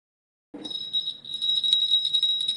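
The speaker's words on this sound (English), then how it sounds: "I shook the bell." A small silver bell shaken close by, ringing with a bright, continuous jingle that shimmers steadily for a couple of seconds with nothing else around it.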